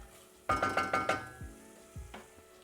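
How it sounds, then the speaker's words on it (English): Pepper paste frying in a stew pot, heard as a series of close, rhythmic clinks and scrapes from stirring, with a low sizzle underneath and a few softer knocks afterward. "we're frying it the same way that we would fry tomato paste"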